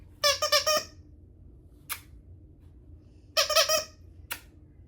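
A baby's squeaky toy squeezed at home, giving two bursts of rapid, bright squeaks close by, each followed a moment later by a single short squeak, with quiet room tone between.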